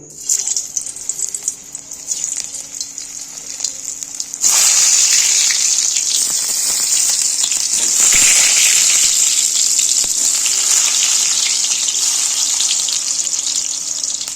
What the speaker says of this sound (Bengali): এবার এইগুলোই এবার কড়াইয়ের মধ্যে আস্তে আস্তে করে ভেজে নেব।